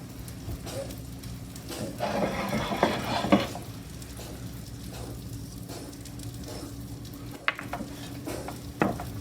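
Salt is mixed by hand into an Italian meatball mixture, giving soft squelching, scraping sounds with a few light clicks against the bowl, close and quiet, with no voices.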